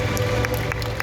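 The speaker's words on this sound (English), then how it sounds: "Round of applause for that" Audience clapping at a bird show at Mandai Bird Paradise in Singapore, a brief burst of steady applause from a crowd with a continuous hum underneath.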